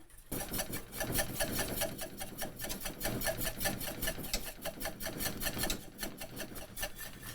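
A metal whisk works thickening gravy in a pan, giving a steady, fast scraping and rasping rhythm that runs continuously and fairly loud for the whole stretch, close up with no talk.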